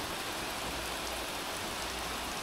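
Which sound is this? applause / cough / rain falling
rain falling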